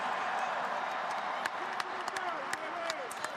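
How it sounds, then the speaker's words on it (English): Fans at the Texas Bowl game between K-State and LSU applaud in a large, distant crowd with scattered claps and murmur, while a voice carries over the noise. "About a round of applause for Skylar."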